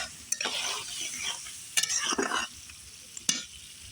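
Onion and garlic paste with cumin, coriander, turmeric, chili powder and salt sizzle in oil on a cement stove, scraped and stirred in several bursts between quieter frying hiss.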